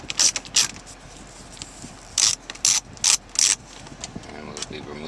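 A ratchet clicks through short bursts while loosening a T20 screw behind the stereo panel of a Mercedes GL: two quick runs, a pause, then four more close, crisp bursts over a quiet background.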